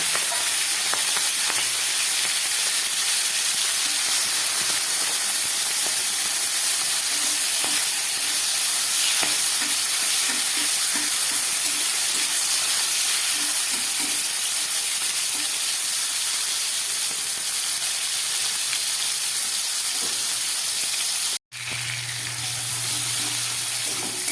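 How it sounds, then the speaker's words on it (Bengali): Prawns coated in salt and turmeric fry in hot oil, giving a steady, dense sizzle and hiss that runs unbroken for most of the stretch, then cuts out briefly near the end before resuming. "এই গরম তেলের মধ্যে আমি দিয়ে দিচ্ছি একটুখানি চিংড়ি মাছ নুন হলুদ মাখা চিংড়ি মাছটা আমি একটু ভেজে নেবো"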